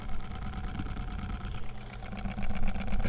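A faulty USB mini fan runs with a rough, steady low rumble and buzzing drone like a small tractor engine, continuous and close for the whole stretch, with no talking.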